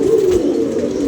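Pigeons cooing at close range in summer, a single low, throaty, rolling coo that is loud and carries on without a break, with no voices.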